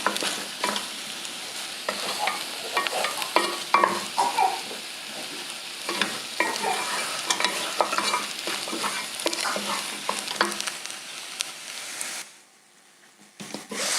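Beef cooks in a pan with its seasonings and other ingredients, giving a continuous close sizzle with frequent stirring clicks and scrapes, then dropping to near silence for a moment at the end.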